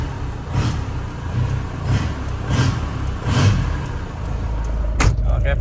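A Panther LS 2002 engine runs at idle, heard from outside the cabin, a steady low rumble with a few gentle revving swells and a sharp knock near the end.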